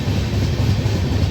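Howrah-Tirupati Humsafar Express running, a dense, steady low rumble and roar of wheels and carriage filling the whole short stretch, heard from inside the train.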